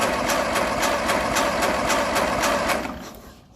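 A 1957 Ferguson 35 TVO tractor engine cranks over with a steady, rapid rhythmic chugging pulse, loud and close, fading out at the end with no talking.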